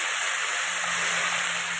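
Kathla fish, cut, washed and salted, frying in hot oil with cumin and a split dried chilli, giving a steady close sizzling hiss with no talk.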